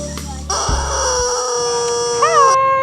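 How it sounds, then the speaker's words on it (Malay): A rubber toy chicken on a restaurant table in Hat Yai gets squeezed to call the waiter, letting out one loud, close, drawn-out squawk lasting about two seconds that wobbles upward near the end. "pijit ayam untuk panggil pelayan"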